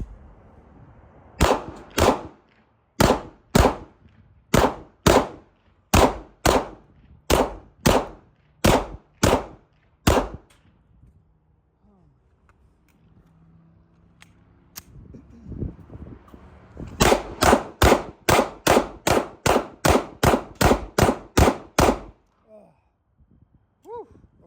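A Smith & Wesson M&P 2.0 pistol fires in two rapid strings of loud, sharp, evenly spaced shots outdoors, about a dozen each, separated by a pause with faint movement and voices.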